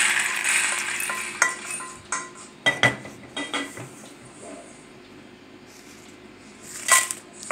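Dried red chillies fry in a pan for a chutney powder, a faint sizzle under repeated clinks and scrapes of a spoon stirring against the metal, with a louder rattle toward the end.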